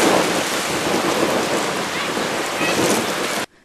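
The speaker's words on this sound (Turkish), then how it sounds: "Bodrum'dan sonra sağanak Marmaris'i de vurdu." A heavy downpour with thunder lashes the coastal town of Marmaris during flooding, a loud, continuous roar of rain with rumbling underneath that cuts off abruptly near the end.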